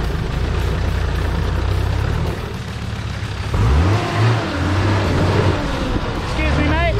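4WD truck on Falken Wildpeaks tyres and Dobinsons suspension crawling up a slope, its engine droning low and steady and then revving harder midway, loud and close, with a person talking over it.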